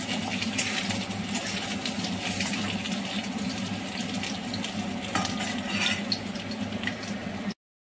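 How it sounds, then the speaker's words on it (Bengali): Steady, dense sizzling of potatoes frying in hot oil fills the clip at an even level, close up, then stops abruptly. "আলুগুলোকে ভালো করে ভেজে নেব।"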